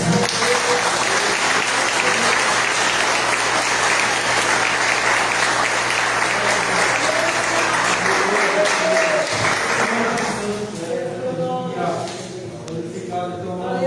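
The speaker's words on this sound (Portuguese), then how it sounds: "palmas ao Senhor." A church congregation claps loudly and steadily for about ten seconds at a worship service, the applause tapering off as a voice begins speaking and music-like tones emerge.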